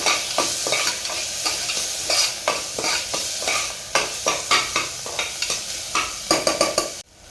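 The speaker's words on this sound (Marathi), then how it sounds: "घालणार आहे टोमॅटो थोडंसं परतून घ्यायचं तेलामध्ये" Tomato sautés in oil with onion and ground paste, loud close sizzling broken by repeated rhythmic scraping strokes of a spoon stirring the pan, ending abruptly.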